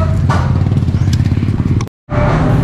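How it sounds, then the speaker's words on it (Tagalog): A Yamaha YTX 125 motorcycle engine runs loud and close with a steady low chugging rumble. The sound cuts out abruptly for a moment, then resumes at the same level. "umalis na yung ating customer doon sa motor na YTX 125"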